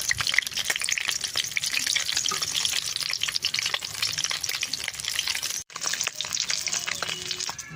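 Onions fry in oil in a pan with a busy, close crackling sizzle and occasional stirring scrapes, briefly cutting out near the end before resuming, with no talking.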